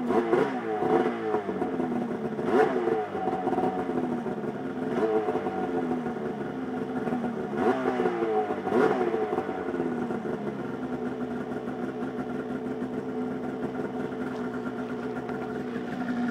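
A 2003 Polaris RMK 700 snowmobile engine fitted with an SLP muffler runs steadily nearby, idling with a clattering two-stroke drone and a few short throttle blips early on, with no talk over it.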